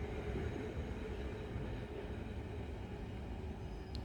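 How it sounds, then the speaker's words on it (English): A Southeastern Class 375 electric train idles at Tonbridge station, giving a steady low rumble and hum at moderate distance with a faint high tone near the end. "getting ready to depart out now is the 1021 Southeastern service from Hastings to London Charing Cross"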